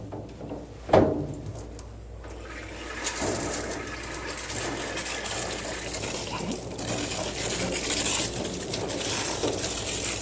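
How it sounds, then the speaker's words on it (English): A dog being groomed is soaked with water before shampooing, heard as a hissing spray with occasional thumps and clatter, growing steadier and louder toward the end. "Now we're going to fully saturate Daisy with water before we apply the shampoo"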